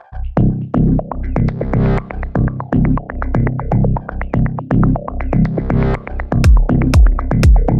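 A loud, pulsing synth bass line plays with a filtered, rhythmic character and echoing repeats, dense and driving throughout with no talking.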